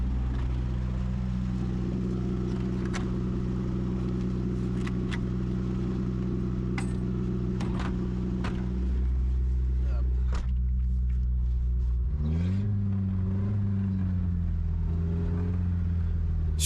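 An abandoned Mercedes pulled from a swamp drives on despite missing rear wheels, its engine droning steadily, dropping lower partway through, then shifting pitch again as it strains forward, with scattered clicks and knocks.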